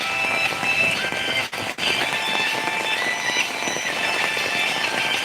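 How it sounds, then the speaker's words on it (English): Heavy rainfall just after a thunderstorm makes a dense, steady hiss that fills the whole stretch, loud and unbroken apart from a brief dip in the middle, with no voices. "You can listen the sound of the raining."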